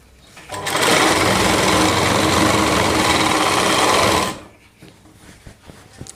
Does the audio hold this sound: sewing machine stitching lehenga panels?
yes